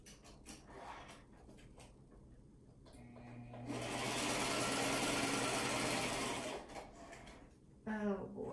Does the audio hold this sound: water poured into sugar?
no